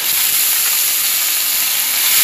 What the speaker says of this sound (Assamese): এতিয়া ইয়াতে মই আলু আৰু বেঙেনাখিনি দি দিছোঁ।